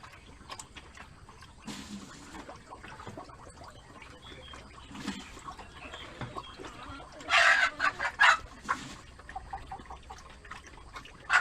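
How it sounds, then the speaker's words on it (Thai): Chickens on a wild boar farm cluck and crow in several loud, close bursts late in the stretch, following quieter farmyard ambience. "วกไก่พวกอะไรก็จะเข้ามากินข้าวในนี้กับหมู"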